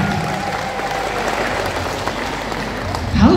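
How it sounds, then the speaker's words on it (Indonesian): A crowd applauds steadily in a room, a continuous wash of clapping that swells slightly at the end, with a voice faintly underneath. "Boleh minta tepuk tangannya dulu"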